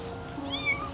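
A cat meows close by, with one drawn-out rising and falling call that stands clearly over a quiet indoor background.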